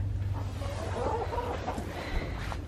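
Chickens clucking softly inside a backyard homestead coop, low scattered calls over a steady background hum, no talking.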